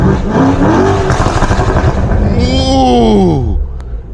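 Exhaust of a 640 hp BMW M550i roaring as it revs hard under acceleration at night, a loud, continuous deep drone rising in pitch through the gears before easing off at the end.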